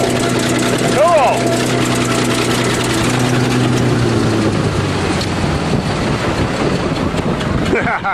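A running Buick Regal or Oldsmobile car engine idles and revs as a bulldozer crushes it, loud heavy engine rumble with grinding and clanking, people talking over it.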